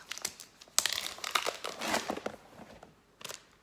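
Tape peeled off a subscription beauty box, a run of close crinkling, tearing crackles in several bursts, loudest near the start and a final short burst at the end, with no talking.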